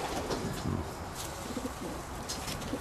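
Pigeons coo continuously in an aviary, soft overlapping calls amid a busy background hum, with voices faintly present.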